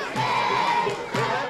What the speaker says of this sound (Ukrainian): Боже, захисти сирійську армію, скандує натовп, умить, коли ми виходимо з машини